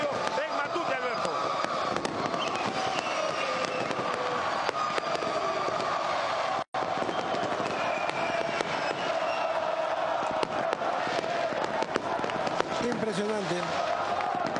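Packed football stadium crowd of about 30,000 at Alianza Lima's Matute ground in Peru, a dense continuous roar with fireworks pops, under a commentator's voice.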